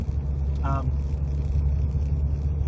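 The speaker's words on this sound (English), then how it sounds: "The noise from the exhaust system, I think, is not too loud and not too quiet." Steady low engine and exhaust rumble from a moving car, constant and fairly loud throughout, with a brief faint voice-like tone early on.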